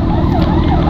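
An ambulance siren wails loudly and close in heavy traffic around Lembang, a brief, continuous wavering tone over engine rumble, with no talk.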